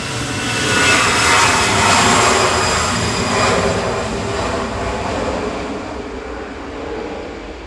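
A 28-year-old Lufthansa Airbus A319 departs Manchester Airport for Frankfurt, its loud broadband jet roar swelling early and then easing gradually as it climbs away, with no voices over it.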